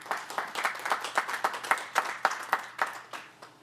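A small audience at a village council study session applauds with a sparse, fairly even run of distinct claps that taper off over a few seconds, with no speech.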